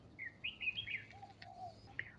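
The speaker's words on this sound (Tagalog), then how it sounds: "Tunog ibon, tunog crickets lang ang maririnig." Bird chirps and short whistled calls repeat irregularly over a steady low background hum at a quiet oyster-gathering area; no insect trill stands out.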